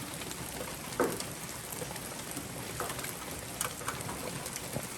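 Steady rain falls outdoors at an off-grid cabin build site, a continuous broadband patter with a few louder drops and knocks, moderately quiet and unbroken by speech.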